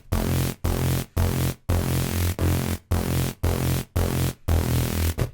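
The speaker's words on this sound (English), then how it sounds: "I'm going to talk about the Disruptive bass patch which I made" A gritty, distorted neurofunk bass synth patch built in Vital plays alone in short, loud, sustained blasts, each cut off by a brief gap, in a steady rhythm of roughly two per second.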